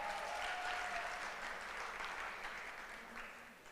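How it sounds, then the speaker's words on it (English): Graduating Year 13 students of the Class of 2023 applaud themselves at their ceremony, a broad, continuous patter of clapping that gradually fades toward the end. "So again, a round of applause to yourself."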